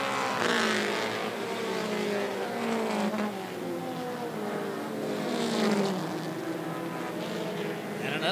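Mini stock race cars at 411 Motor Speedway roar past, engine pitch climbing and falling as the pack sweeps by, loud and continuous with no talking.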